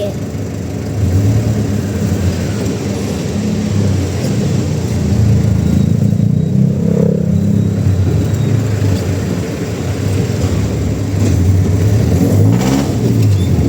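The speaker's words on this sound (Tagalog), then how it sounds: "Nandito kami kasi nag-traffic." Road traffic jam with car engines idling and revving, a steady low rumble close by that swells and dips throughout, with some voices talking underneath.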